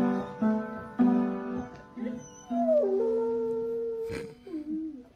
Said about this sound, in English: So this is a little beagle.